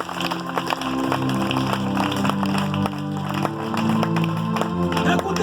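A church congregation applauds and cheers for Jesus during a French-language sermon, a loud sustained wave of clapping with crowd voices and a tonal backing under it.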